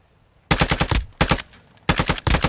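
Rapid bursts of gunfire in the DMZ video game, three loud automatic volleys close by with brief gaps between them and no talk over them.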